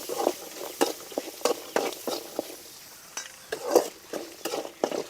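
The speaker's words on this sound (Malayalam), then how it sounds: "ഇനി അത് നന്നായിട്ടൊന്ന് വാടട്ട് ഉള്ളി." Shallots and garlic fry in a pan for a Kerala-style chicken chammanthi, giving soft sizzling broken by frequent close scraping stirs and light utensil clinks, with no one talking.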